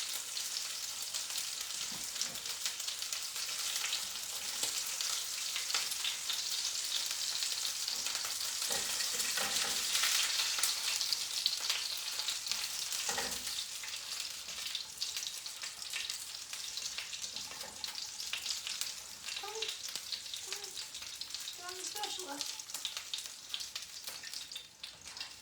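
Shrimp fry in a pan with a continuous bright sizzle, soft crackles and scattered pops, close and steady throughout, with occasional light clinks of the pieces being moved.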